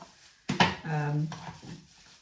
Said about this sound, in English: You do want to try and scrape out as much from your bowls as possible